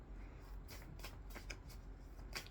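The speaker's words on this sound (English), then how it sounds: "I'm just going to shuffle with my eyes shut, as this is my self-care deck that is double-sided." A double-sided self-care card deck being shuffled by hand, a run of crisp riffling bursts spread across a couple of seconds, close and quiet with no talking.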